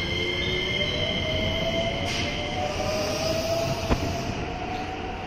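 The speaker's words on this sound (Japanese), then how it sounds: "こちらは滋賀県の敦賀まで行く列車です。" A train bound for Tsuruga passes through Nishi-Akashi station, its steady rolling rumble filling the platform with a long whining tone and a brief sharp clack near the end.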